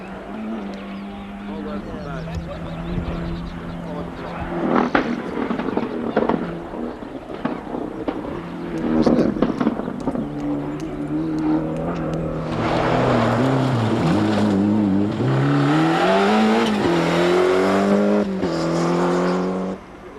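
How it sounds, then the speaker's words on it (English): Steve Smith's X-Works Lancia Delta Integrale rally car drives a stage of the 1997 Kerridge Rally. The engine revs rise and fall through gear changes, then swell into a loud, sustained roar as the car passes close, with a voice talking over it. "This is the X-Works Lancia Delta Integrale of Steve Smith"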